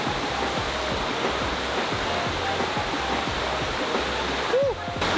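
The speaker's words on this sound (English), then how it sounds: "This is just one of a handful of waterfalls here at Havasu Pai" Waterfall at Havasu Falls pouring steadily with a dense, continuous roar that stays loud and close from start to finish, with no voices over it.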